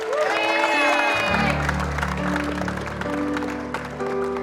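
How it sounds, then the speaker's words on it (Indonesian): Applause from a TV studio audience mixed with crowd noise and music, steady and fairly loud throughout. "tepuk tangan dong, tepuk tangan"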